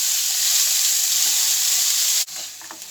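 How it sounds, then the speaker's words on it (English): Peppers, chilli and onions sizzle steadily in a frying pan for a vegan curry, a loud continuous hiss with a brief dip near the end as they are stirred around. "Gives them a good stir around the pan."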